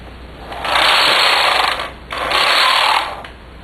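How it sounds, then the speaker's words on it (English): A knitting machine carriage sweeps across the needle bed and back, two smooth whirring passes about a second and a half each, close and loud with a brief pause between them. "Now I'm going to go across and back over the needles just to even them up."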